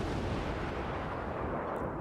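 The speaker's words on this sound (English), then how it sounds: "So we will target the Dresden with some HE fire." High-explosive shell fire from a Russian destroyer's guns in World of Warships, a dense, continuous rumbling barrage of booming gun blasts filling the whole stretch with no pauses.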